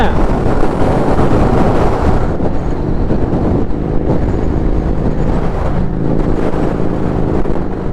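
Strong wind roars and buffets steadily and loudly against the microphone during a motorcycle ride on new tyres, a dense continuous rush with low rumble throughout.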